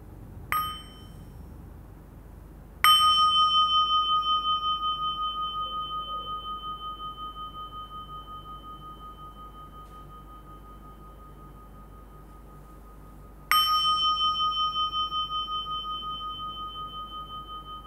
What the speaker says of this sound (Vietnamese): 3 tiếng chuông.